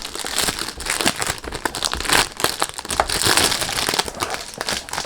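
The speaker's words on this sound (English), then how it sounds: "Sorry about the noise when you do unboxing." Plastic packaging for an Al Haramain L'Aventure Grapefruit perfume being handled during unboxing, giving continuous close crinkling and crunching that runs unbroken through the whole stretch without any talk.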